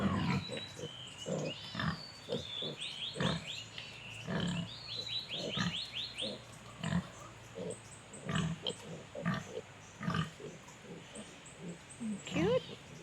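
Small piglets grunt in short, irregular bursts outside their pen in the mud, close and fairly quiet, with high squeals and chirping birds in the background.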